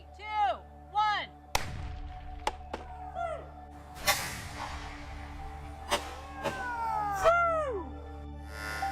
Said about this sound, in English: so now the gun is actually firing into the right side of the block